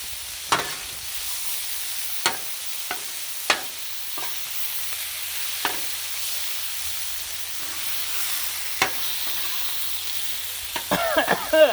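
Garlic is ladled onto a hot griddle of chili, which keeps up a continuous hissing sizzle punctuated by occasional sharp metal taps, with bubbling and spatter building at the end.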